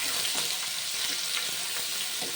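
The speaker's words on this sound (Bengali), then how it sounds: "দিয়ে দিলাম আদা, এইগুলোর কাঁচা গন্ধ না যাওয়া পর্যন্ত আমি ভেজে নেব" Garlic and ginger frying in a pan to cook off their raw smell for an egg and eggplant dish, a dense, even, hissing sizzle that runs unbroken and loud for the whole moment.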